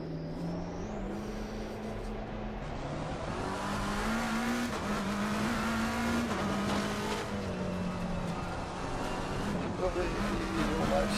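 Race car engine from Assetto Corsa Competizione on the Spa circuit drones steadily, its pitch rising and falling through gear changes, loud and continuous, with a voice speaking briefly over it.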